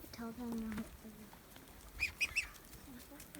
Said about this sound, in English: that's a Muscovy duck, a little Muscovy hen